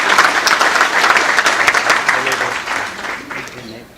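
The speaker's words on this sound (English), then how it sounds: "Let's give him a nice round of applause." A room of Rotary Club members applauds a guest at a weekly meeting, loud close clapping that swells and then gradually tapers off.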